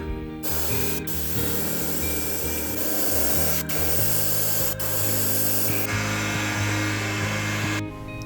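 Spray can hissing steadily as an opaque white base coat goes onto a wooden crankbait lure made from scrap wood, a loud continuous spray with a few short breaks and no talk.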